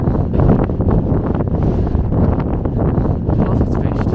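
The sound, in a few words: wind on a mountain summit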